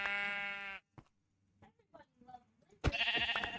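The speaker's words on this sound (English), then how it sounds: "A sheep." A sheep in Minecraft bleats twice, a clear wavering call at the start and another near the end, with quiet soft sounds and near silence in between.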